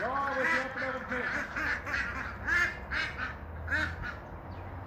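Several escaped ducks quack repeatedly by a fence, a run of loud, close, nasal calls in quick bursts, with someone talking over them.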